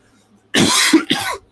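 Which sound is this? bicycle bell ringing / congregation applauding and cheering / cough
cough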